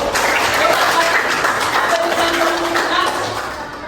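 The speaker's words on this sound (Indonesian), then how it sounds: "Oke, kasih tepuk tangan dulu." Students in a classroom clap together briefly, a short burst of mixed hand claps with a few scattered voices underneath.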